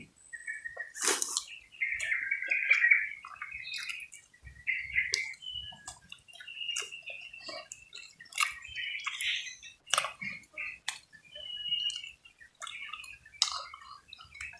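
Birds chirp in short, scattered bursts against a quiet background, some calls nearer and brighter, others faint, with irregular gaps between them.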